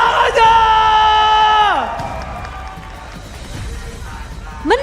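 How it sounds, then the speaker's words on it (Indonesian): An esports arena crowd at a Mobile Legends match cheers and whoops loudly over a sustained tone, then the noise settles into scattered applause and murmur before a fresh cheer rises at the end. "ML Arena, mana tepuk tangannya?"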